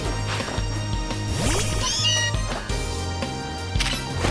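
Meowth cat meows from the Pokémon Legends Z-A video game, several short whining calls over a busy game soundtrack, mid-level and close.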